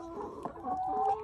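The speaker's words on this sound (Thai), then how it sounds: "สวัสดีจ้านกไก่ว่าไงเอ่ยออกไข่วันละกี่ฟองเนี่ย" A backyard hen on a small family farm clucks close by in a short run of throaty, rising calls that end in a drawn-out tone, with no talking.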